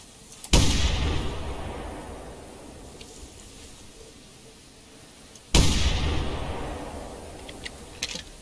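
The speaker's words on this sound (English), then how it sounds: "That is 6 shots on 3 pheasants." Two loud, close shotgun blasts about five seconds apart, each with a long rolling echo, fired at pheasants in a hunting video game, with a few faint clicks between.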